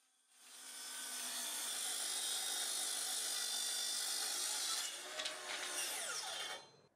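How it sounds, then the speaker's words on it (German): A circular saw whines up and cuts through spruce wood to test blade sharpness, a loud sustained high-pitched buzz that changes pitch near the end, then winds down. "Wir prüfen die Schärfe des Sägeblatts, indem wir in die Fichte schneiden."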